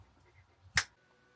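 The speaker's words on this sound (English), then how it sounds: "It's really just a matter of snapping my fingers" A single crisp finger snap, sharp and close, in an otherwise quiet moment inside a camper van.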